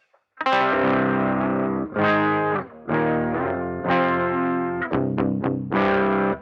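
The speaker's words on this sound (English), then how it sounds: "if you were to plug headphones straight into a guitar head amplifier, this is what you would hear" An electric guitar plays heavily distorted chords straight from an amp head with no speaker cabinet, as heard through headphones, harsh and fizzy, strummed in bursts with brief pauses, loud and alone.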